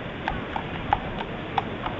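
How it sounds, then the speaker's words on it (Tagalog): Horses clip-clopping along a parade route, a few distinct hoof strikes at uneven intervals over a steady background murmur, moderately close but soft. "Ang lalaki ng kabayo nila"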